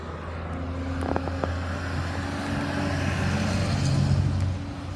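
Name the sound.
big truck passing by on the road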